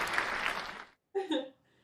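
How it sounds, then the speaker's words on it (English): A short burst of applause fades out, followed by a brief pause and a voice speaking. "give you a round of applause"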